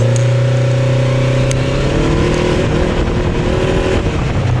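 Polaris RZR RS1 side-by-side in high gear on pavement, its engine droning loud and close with a steady rising pitch as it accelerates, no voices.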